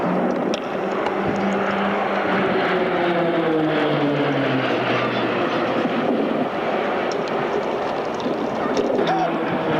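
Roulettes aerobatic propeller aircraft pulling up in a pair at the Avalon Airshow, a droning engine note sliding in pitch as they climb, with a commentator talking over a public address throughout.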